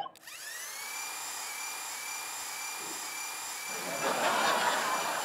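A power drill spinning a watermelon whines at a steady high pitch, then grinds louder and rougher near the end as it bites into the wet, soft fruit.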